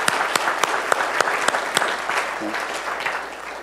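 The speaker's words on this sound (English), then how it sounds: "let's give Roberta a round of applause" Audience applause at a Toastmasters speech event, with steady clapping and a few sharp, louder individual claps standing out near the front for a few seconds before it tapers off.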